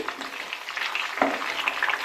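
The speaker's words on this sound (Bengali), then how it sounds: "এবার আরেক পিঠটা ভেজে নিচ্ছি" Chicken pieces sizzle and crackle in a hot pan, a soft steady frying hiss with brief louder spits and a scrape near the middle.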